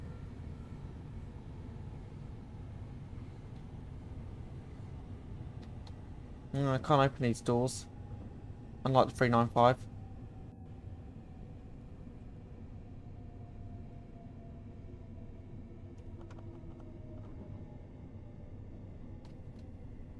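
A Class 377 commuter train runs along the Brighton Main Line toward London Victoria in Train Sim World 2. A steady low cab rumble and hum continues throughout, and someone talks briefly partway through.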